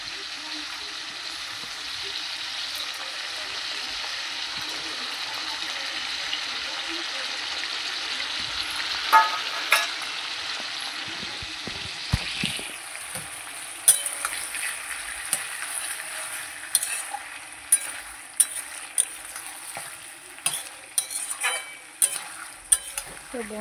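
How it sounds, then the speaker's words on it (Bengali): Ginger-garlic paste going into a pan with lightly fried chicken for a home-style Bengali chicken curry with potatoes, giving a steady, loud sizzle that fades into scattered clicks and scrapes of stirring. "আমি একটুখানি মাংসটা হালকা করে ভেজে নিয়েছিলাম। তো চলো এবার আমি বাটা মশলাটা দিয়ে দিই, আদা রসুনের পেস্টটা আমি পুরোটা দিয়ে দেবো।"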